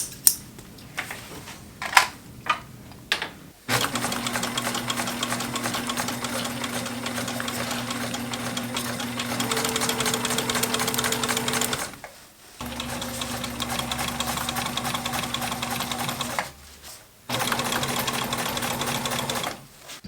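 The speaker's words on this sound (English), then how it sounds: "After I sewed the side seams to the back panel, I sewed a second seam within the seam allowance just to provide some extra security." Sewing machine stitching the side seams of a homemade backpack, running in three long, steady mechanical bursts with brief pauses between them and a few short stitches at the start.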